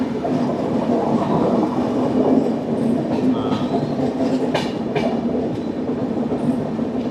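The 16334 Trivandrum Veraval Express runs between Rajkot and Veraval with a loud, steady rumble of rolling wheels and faint rail clatter throughout. No one speaks.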